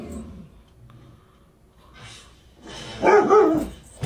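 A dog lets out a couple of short, loud barks near the end after quieter, muffled background sound, heard from a playing video clip.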